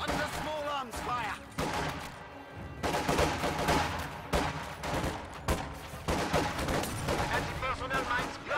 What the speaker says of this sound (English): Under small arms fire!